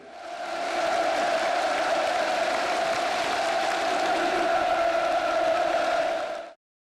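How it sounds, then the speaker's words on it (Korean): A vast crowd of over 20,000 people packed together at a North Korean military parade roars in a steady, loud, sustained cheer that holds evenly for several seconds before cutting off abruptly. "2만 명 이상이 다닥다닥 붙은 채 함성을 찔렀던 열병식"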